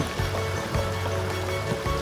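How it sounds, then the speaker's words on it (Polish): The Lengarica river flows near the Benja thermal springs in Albania as a steady, broadband rush of moving water, continuous and fairly close, with a low engine-like hum running underneath. "Dojechaliśmy do rzeki Lęgarnica."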